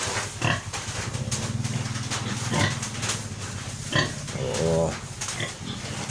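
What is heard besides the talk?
pregnant sow grunting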